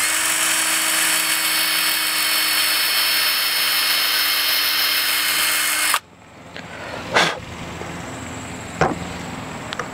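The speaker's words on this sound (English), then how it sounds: "you can use the center point of the screw head and drill your hole in." A power drill bores a hole into the center of a screw head on a Spulse rifle. It whines loudly and steadily for six seconds, then stops abruptly, and a few short rattles and clicks follow.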